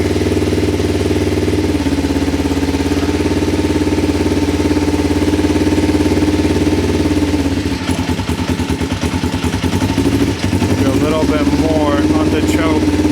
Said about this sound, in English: We have a running bike.